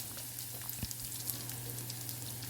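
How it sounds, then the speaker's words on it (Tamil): Cumin, garlic, crushed pepper and dried chilli sizzle in hot oil while tempering dal rasam, a steady close frying hiss with faint crackles and a low hum underneath, no talk. "ஆயில் ஹீட்டான பிறகு தாளிக்கிறதுக்கு காஞ்ச மிளகாய் வந்து 1 கிள்ளி சேர்த்துருக்குறேன்"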